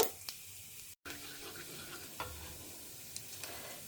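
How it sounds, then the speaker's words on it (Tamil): Cumin seeds sizzle in hot oil in a pan: a faint, steady crackling hiss with a few small pops and a brief cut of silence near the start. "இப்போ எண்ணெய் சுட ஆரம்பிச்சுடுத்து அதில் நான் ஜீரகம் போட்டுருக்கேன்"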